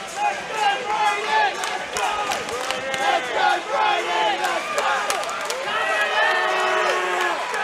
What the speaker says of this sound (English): the crowd's really starting to get involved with this one